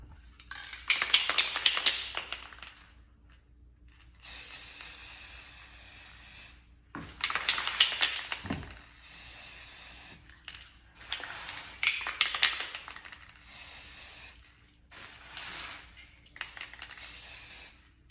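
Spray paint hisses inside a clear glass vase in several separate bursts, each a few seconds long, with short pauses, can rattles and light clinks between them, close and moderately loud.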